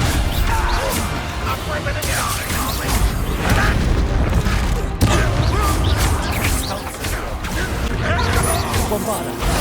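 A Bombarda spell blast in Hogwarts Legacy during a troll fight, heavy booming crashes and smashing impacts over a dense, continuous battle din with game voices speaking.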